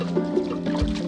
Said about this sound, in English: In a matter of seconds, receptacles are filled up.